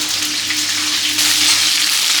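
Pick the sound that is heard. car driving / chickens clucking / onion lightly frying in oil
onion lightly frying in oil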